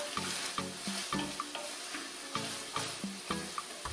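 Apples sautéing in butter in a pan give a steady sizzle with repeated stirring clatter and utensil scrapes spaced through the moment, close and moderately loud, with no talking.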